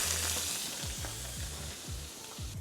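Butter sizzling loudly in a pan for a käsespätzle butter sauce, a steady close hiss broken by a repeated rhythm of stirring scrapes.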